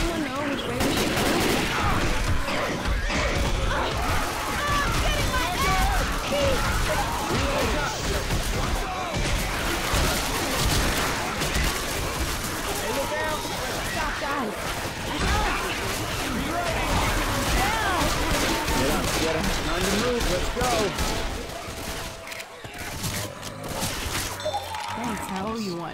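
Dense, chaotic gunfire fills a Left 4 Dead 2 firefight in a Kokiri Forest mod map, with rapid automatic bursts and overlapping shots loud and nearly continuous, briefly thinning near the end.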